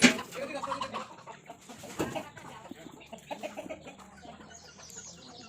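Chickens cluck and a rooster calls nearby at a village home, a few sharp squawks mixed with soft scattered clucking over quiet outdoor background.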